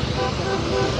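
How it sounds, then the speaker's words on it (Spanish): Car horns toot amid dense roadway traffic noise as vehicles cross the Tienditas border bridge, a steady wash of engines and honking with talk mixed in. "Aquí pasan muchos venezolanos tocando sus bocinas."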